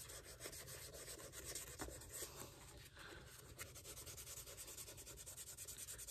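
Sandpaper rubs back and forth over the leather surface of an Alden shoe during restoration, a soft, close, rhythmic scratchy rasp repeating steadily with no talk.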